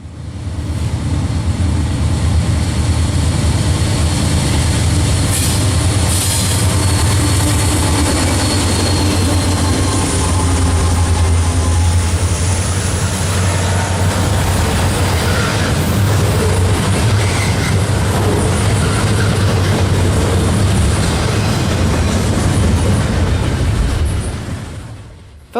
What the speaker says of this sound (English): a Norfolk Southern intermodal crosses the former CNJ Railroad Bridge over the Delaware River